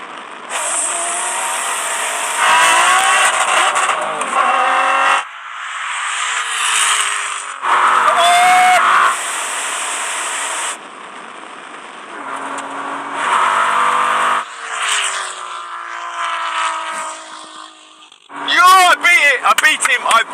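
A £3.5 million supercar and a £180,000 car race, with loud engine bursts, gear changes and mechanical rattles coming in abrupt segments, and excited voices calling out between and over the roars.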